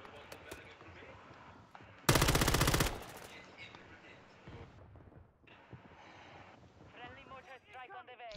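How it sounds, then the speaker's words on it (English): A loud burst of machine-gun fire aimed at the player in a shooter game, rattling for about a second and standing out above quieter in-game ambience and distant shots, with a voice speaking over the surrounding sounds. "Well, I'm being shot at."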